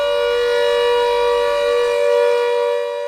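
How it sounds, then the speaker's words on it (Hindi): Civil defence air raid siren sounding during a mock drill, a loud sustained mechanical wail holding a steady pitch with a slight rise and fall in volume, alone without voices. "इस सायरन से आम जनता को हम ये सिग्नल देते हैं कि दुश्मन के जहां फाइटर प्लेन एरिया में आ चुके हैं"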